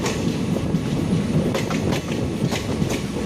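Thiruvananthapuram–Trichy intercity express running on the rails, a steady close rumble of wagons with rhythmic clickety-clack of wheels over joints and occasional sharp metallic clicks.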